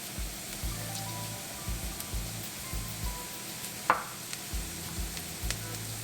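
Chili peppers fry in a pan for aloo masala, a soft continuous sizzle with faint stirring, one sharp clink partway through, quiet and close with no voices.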